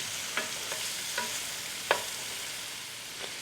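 Onions softening in a pan with browned sausage and coleslaw mix, a steady close sizzle broken by a few sharp scrapes and clacks of a spoon stirring, with no talking.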